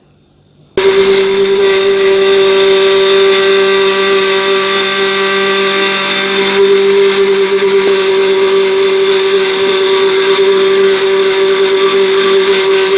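An electric mixing machine whirs loudly and steadily, starting abruptly and running without pause while oil and sugar are poured in for an oven-free vanilla cake batter; a constant high motor drone with no speech.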